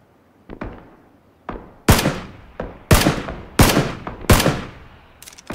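Gunfire in a video game: seven or eight separate sharp shots spaced irregularly, each a loud crack with a quick decaying tail, the later ones heavier and louder.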